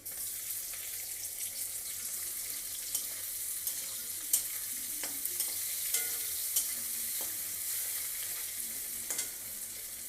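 Onions and chopped tomato fry in a pan for egg curry, a soft continuous sizzle under scattered clicks and scrapes of a stirring spoon, close but quiet.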